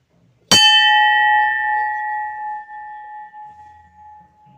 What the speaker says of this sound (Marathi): इकडे घंटी लावलेली आहे.